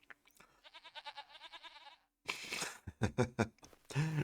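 Goats bleating in the Farming Simulator 25 video game, heard as a close, quavering bleat with a rapid pulsing tremolo, followed by further loud, overlapping bleats after a brief pause.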